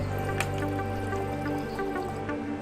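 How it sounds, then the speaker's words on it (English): Water being poured into a shaker cup, a steady close trickle with faint dripping and no talking. "First, you're going to fill up your water."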